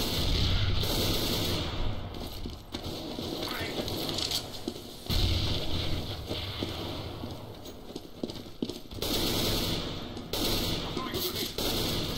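Repeated gunfire bursts in a tactical shooter video game, the shots recurring in loud clusters across the stretch with game thuds in between, close and dense, with voices talking over part of it.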